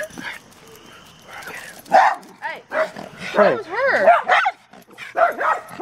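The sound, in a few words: dog barking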